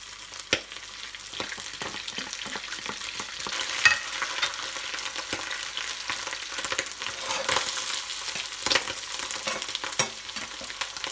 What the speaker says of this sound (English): Once the oil is hot, then add your squid.